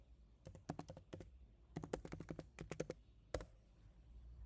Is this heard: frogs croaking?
no